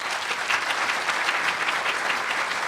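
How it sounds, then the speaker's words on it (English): A live conference audience claps together in dense, sustained applause at a keynote talk, a steady wash of many hands filling the room for the whole stretch with no voices on top. "Take two hands, clap together furiously"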